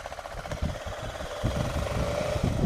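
Motorcycle engine at the start of a tour, a steady low rumbling drone that swells slightly as the bike begins moving, heard close and continuous with no talking.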